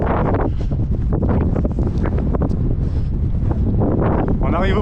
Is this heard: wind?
yes